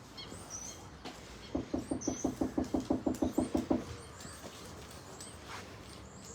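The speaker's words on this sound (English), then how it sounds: "just knock again and see if someone comes" Knocking on a door, a quick run of about a dozen evenly spaced raps lasting a couple of seconds. The knocks are fairly close, with faint bird chirps in the quiet background.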